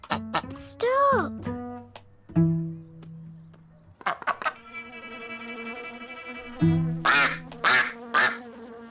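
A cartoon duck quacks in a rapid series of nasal calls, loud and close, alternating with bright musical tones and brief pauses, no speech.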